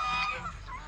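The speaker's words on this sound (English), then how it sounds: "So there are Canada geese here" Canada geese honk at a wildlife park in Santa Rosa, California, a close, loud, overlapping honking that fills the short moment.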